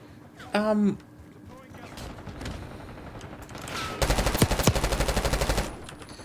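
Rapid automatic gunfire from the Black Ops 6 video game, a loud sustained burst of many shots near the end, with a voice and in-game ambience earlier.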